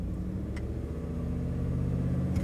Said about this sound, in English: traction control on, it still did a giant burnout